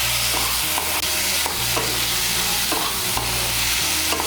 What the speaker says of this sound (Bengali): আলুগুলোকে মিশিয়ে নেব, মশলার সঙ্গে মিশিয়ে নিয়ে আর একটু কষিয়ে নেব।